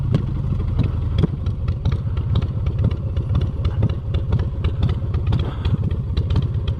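A motorcycle engine idles with its idle raised slightly, a steady close rumble with a rapid, even clattering pulse that holds throughout, loud and with no talk over it.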